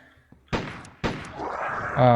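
Two sharp gunshot blasts from a weapon in a Ukrainian horror-style shooter game, about half a second apart, followed by a sustained rumbling tail and rising game noise.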